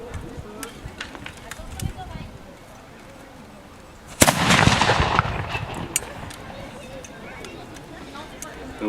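A single sharp shot from an old black-powder firearm set off by a flame at the touch-hole, loud and sudden, followed by a few seconds of rumbling smoke-and-echo noise in an outdoor setting, with faint clicks before it.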